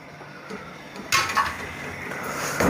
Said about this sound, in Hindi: अलसी जो है वो चिड़चिड़ की आवाज़ करते हुए भूनती है